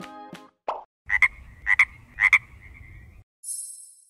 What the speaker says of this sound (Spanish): ¡Era el sonido de una rana!